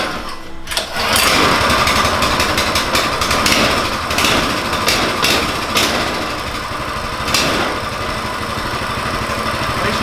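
A Coleman CT200U mini bike's small engine sputters to life on its first start after a brief pull, then runs with a loud, steady, buzzing rattle at close range.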